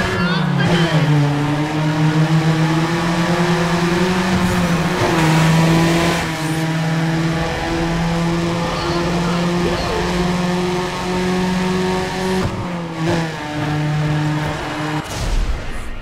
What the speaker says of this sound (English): Will you listen to those engines?